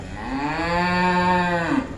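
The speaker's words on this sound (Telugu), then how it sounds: "ఆవు అమ్మ అని పిలుస్తుంది" A cow gives one long, steady moo lasting about two seconds, close and clear, near a temple in a mango grove.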